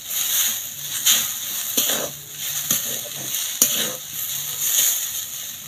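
Potatoes with turmeric and salt sizzle steadily in a hot pan, with repeated scraping strokes of a stirring spoon and a few light clinks against the metal.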